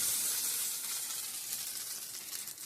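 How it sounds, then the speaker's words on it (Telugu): Steady, bright sizzle of dried red chili tempering frying in hot oil, close and continuous with a slight crackle, no voices. "ఒక ఎండు ఎండుమిరపకాయ జస్ట్ లైట్గా వేయించేసి తాలింపు వేసేస్తాను"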